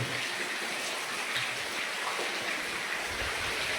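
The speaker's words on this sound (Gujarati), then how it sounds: "वरसाद चालू है धीमो धीमो टाढ़ी तो टाढ़ी हवा आवे है" Light rain falls steadily in a village with a cold wind, a soft continuous hiss with no break across the whole stretch and no voices.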